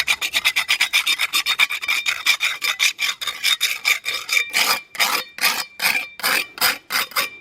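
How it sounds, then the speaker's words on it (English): A trowel scrapes repeatedly across a cement texture coat on a fake rock for a grotto, slide and waterfall build, giving close, loud, rhythmic rasping strokes that start quick and dense, then turn into slower, separate hard scrapes. "So I give it a scrape, and then I come back with a brush."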